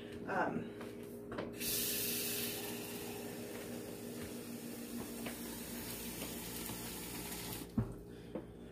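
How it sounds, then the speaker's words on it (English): Tap water runs steadily into an Instant Pot over two pounds of dry beans, a continuous hissing splash that carries on for several seconds with a faint voice underneath and a brief clunk near the end. "you're just going to cover the beans with water"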